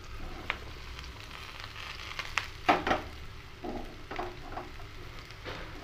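Chopped onion, green chilli and snake gourd tipped into hot oil for a simple chutney, giving a soft steady sizzle with a few louder crackling bursts as the pieces hit the pan, no talking.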